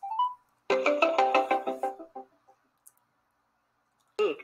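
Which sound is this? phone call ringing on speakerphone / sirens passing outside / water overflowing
phone call ringing on speakerphone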